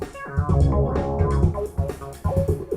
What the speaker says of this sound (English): here is a control by which I can bring in more of this crazy EQ clipping